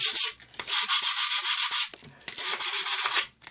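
Sandpaper rubs lightly along the rough edges of a cheap wooden box, two long hissing passes broken by a brief pause, close up and clear, with no voices.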